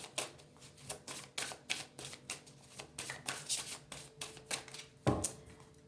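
A deck of oracle cards being cut and shuffled by hand: rapid, crisp riffling flutters in repeated bursts, close and clear, ending with a soft thump as the deck is squared.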